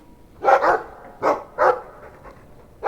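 A dog in the Dragon Age 2 video game barks a few times, close and clear: a quick double bark, then two more spaced barks, with a faint whimpering yip after them and no talk over it.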